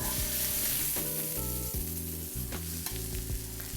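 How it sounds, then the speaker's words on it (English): A steak basted in butter sizzles steadily in a pan, a constant hiss running beneath louder background music. "Bathe it in the butter."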